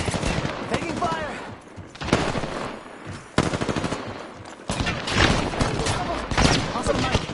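Rapid automatic gunfire in a video game arena match, loud bursts of machine-gun fire broken by short pauses, with several volleys in succession.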